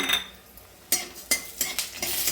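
Two spoons of coriander seeds roasting in a ladleful of oil in a kadhai, soft frying hiss broken by several sharp scraping clinks of a spoon against the pan, close and fairly quiet.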